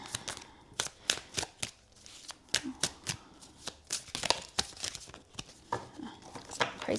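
Tarot cards being shuffled in repeated quick riffling bursts, crisp and close, with short pauses between each pass and no talking.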